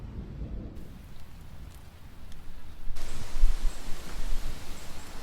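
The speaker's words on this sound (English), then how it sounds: "And it's raining a lot." Steady heavy rain pouring down on a lakeside campsite, growing louder partway through, with a faint low rumble of thunder beneath the downpour.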